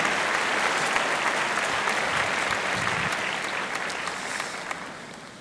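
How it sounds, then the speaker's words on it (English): An audience at an inauguration ceremony claps continuously, dense and full close to the listener, then gradually fades toward the end. "some of you are clapping during the speech, in between"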